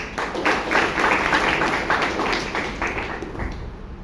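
An audience at a Bangalore Toastmasters meeting claps to welcome a Toastmaster: steady, dense applause from a roomful of hands, close and continuous, gradually thinning toward the end.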